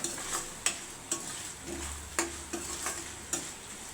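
Green chillies frying in a pan for a raw mango pulihora, a quiet soft sizzle under regular spatula taps and stirring strokes, about eight sharp knocks spaced through the few seconds.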